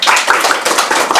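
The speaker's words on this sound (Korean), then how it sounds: "많은 박수 부탁드립니다" A lecture audience applauds to welcome a speaker, a dense close burst of many hands clapping together, loud and continuous for just over a second.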